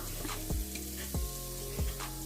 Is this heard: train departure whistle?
no